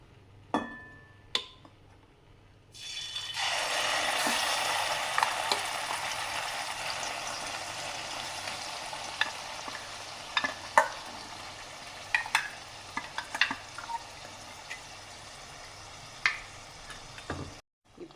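Ground masala paste sizzles and fries in hot oil for a sepang kilangu fry, a loud steady hiss broken by frequent scraping and clicking stirs of a spoon against the pan, with quiet taps before the frying starts.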